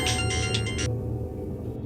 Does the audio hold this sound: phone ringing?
yes